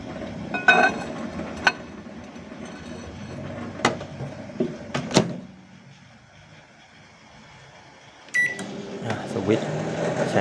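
Repaired microwave oven humming steadily while heating water, with clicks and clunks of the door and buttons, a quieter stretch, then the hum resuming; someone speaks at times.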